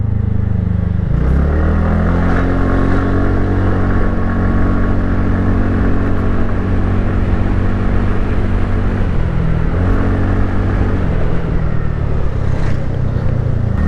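A TVS Ntorq 125 scooter in race mode rides loud and close, its engine drone rising and falling through repeated accelerations over constant wind rush.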